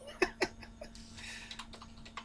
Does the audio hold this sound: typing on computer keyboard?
yes